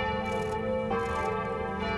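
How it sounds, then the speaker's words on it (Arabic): Church bells ring in Stuttgart, Germany, during German Unity Day ceremonies: a steady, sustained metallic chime with rich lingering overtones, heard alone and fairly loud. "ففي الساعة العاشرة قرعت أجراس كنيسة العطاء في مدينة شتوتغارت"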